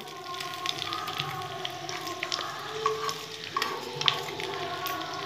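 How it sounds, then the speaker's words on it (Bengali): Onions frying in a pan for a Maggi recipe, a steady close sizzle with scattered crackles and pops that runs without pause, with no voices. "এখন আমি পেঁয়াজগুলো ভেজে নেব।"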